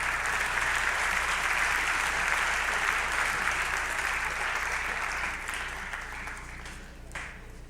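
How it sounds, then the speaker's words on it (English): At a school fall sports awards ceremony, a crowd applauds the cheerleaders with a full, steady clatter of many hands that gradually thins and fades over about eight seconds. "How about a round of applause for our cheerleaders?"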